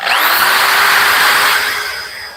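A Dremel rotary tool whines loudly and steadily at high speed while polishing the outside of a handmade ring, holding a close, continuous tone before easing off slightly at the end.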